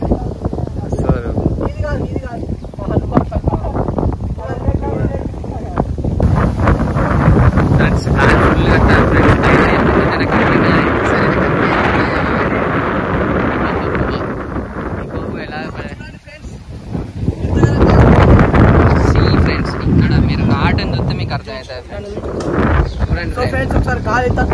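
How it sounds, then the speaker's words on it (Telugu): Strong wind buffets the microphone during an outdoor shoot in a forest, roaring in loud, uneven gusts that swell and drop over about 25 seconds. "ఒకసారి గాలి ఎంత చూడండి"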